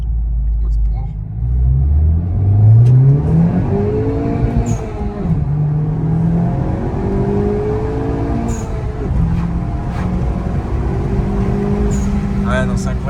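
Honda Civic Type R FK8 in sport mode pulls hard under steady, loud engine drone, the pitch climbing through the revs and then dropping at each gear change, with brief chirps and valve hiss and occasional talk inside the cabin.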